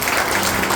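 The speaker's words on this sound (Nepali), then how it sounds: "परमेश्वरको वचनको लागि एकपल्ट जोरदार ताली बजाउन" Church congregation applauding the word of God during a Nepali sermon, a dense, steady wash of clapping that fills the whole short moment at a fairly loud, even level.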